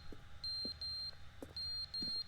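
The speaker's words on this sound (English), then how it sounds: "Please stop the beeping." Electronic button beeping in The Stanley Parable video game: four clear, high, steady beeps in an even rhythm, each held about a quarter second, alone over a faint low background hum.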